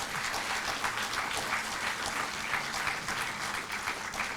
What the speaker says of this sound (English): They need applause for it.